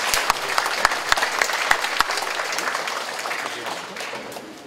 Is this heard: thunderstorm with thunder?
no